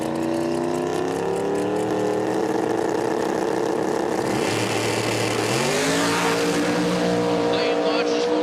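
In a sim racing game, a Ford Mustang and a Chevrolet Corvette rev side by side and launch, their engine notes climbing and shifting through gears. A commentator talks over the loud racing engines.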